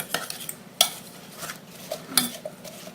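A spoon stirs a brown sugar and flour crumb topping into oatmeal, giving soft scraping and several sharp clinks against the bowl, spaced irregularly and heard close with no talk.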